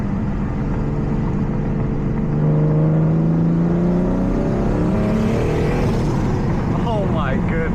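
Single-turbo BMW F80 M3 accelerating under boost, heard from inside as a steady loud engine drone that climbs in pitch toward the end, with voices talking over it.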